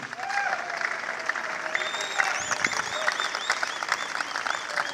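An indoor audience at a YMCA gathering breaks into applause, a steady wash of many hands clapping at moderate distance, with a few faint voices and whoops mixed in.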